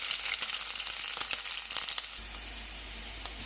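Green chillies and onions frying in hot oil, a steady close hiss and crackle of sizzling that carries on without a break, with a few faint stirring clicks.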